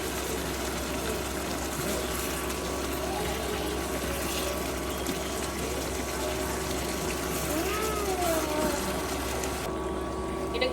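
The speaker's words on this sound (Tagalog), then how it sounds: "Nilagyan ko ng tubig kasi gusto ko medyo saucy" Water runs steadily into a pan, a continuous splashing rush over a low background hum, with no talking.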